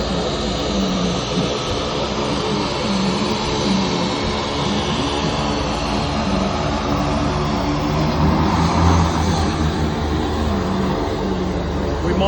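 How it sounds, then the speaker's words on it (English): A Fairchild Metroliner twin-turboprop at Archerfield Airport runs its engines with a steady, loud, broadband roar and low droning hum that holds without break, swelling slightly toward the end. "I think someone started their aircraft, and that's a Fairchild Metroliner."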